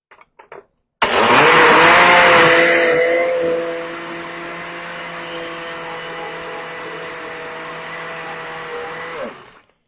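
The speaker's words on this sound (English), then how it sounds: "Okay, now we're going to put this in the blender" A blender whirs loudly at high speed blending cherries jubilee batter, then settles into a steadier, lower hum as the batter smooths out, stopping abruptly at the end.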